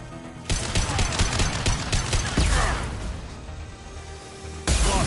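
Rapid bursts of impact shot gunfire in the Mass Effect 2 video game, loud close volleys of shots with whooshing projectiles, a brief pause, then another burst near the end.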